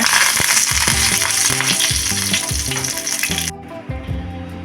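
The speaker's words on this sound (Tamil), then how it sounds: "கடுகு பொரிஞ்சதும் கருவேப்பிலை கொஞ்சம் போட்டு தாளிச்சிங்க" Loud, steady sizzling and crackling of curry leaves and mustard seeds frying in hot oil, broad hiss that cuts off sharply near the end, leaving low clattering sounds.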